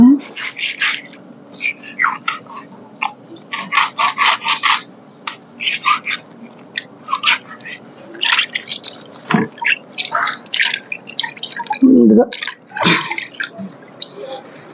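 Cut fish pieces are washed by hand with salt and water in a village kitchen, making irregular splashes, drips and wet rubbing sounds close by, with a voice speaking in between.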